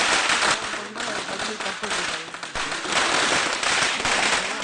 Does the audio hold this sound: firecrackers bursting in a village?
yes